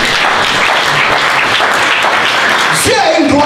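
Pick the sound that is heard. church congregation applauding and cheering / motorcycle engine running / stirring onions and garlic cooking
church congregation applauding and cheering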